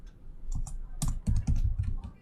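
Typing on a computer keyboard while entering a localhost address into a browser, with a quick run of clustered key clicks and taps, close and moderately loud, with no talking.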